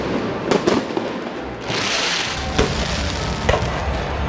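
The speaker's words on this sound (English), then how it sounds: "the fireworks." Winterfest fireworks at a boat parade burst with several sharp booming cracks spread a second or so apart, plus a crackling fizzing stretch, loud and outdoors.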